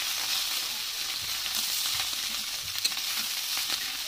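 Food sizzling in a hot frying pan while being stirred, a continuous crackling hiss with occasional soft scrapes of the spoon, steady and close, with no talking.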